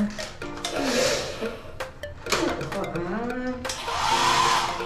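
A hair blower runs with a steady, loud, breathy rush throughout, swelling at times, while voices talk over it.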